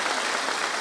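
A live audience at a folk song contest breaks into steady, continuous applause, a dense and even wash of clapping filling the moment.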